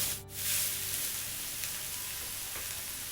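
Ripe banana and coconut frying in a pan give off a steady, close sizzle with a brief stirring scrape near the start, continuous and unaccompanied by talk.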